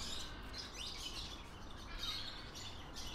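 Faint parrots chirp and squawk in the distance near a villa in Portugal over a steady background hiss, with scattered calls rising and fading.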